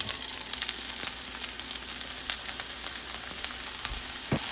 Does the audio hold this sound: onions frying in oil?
yes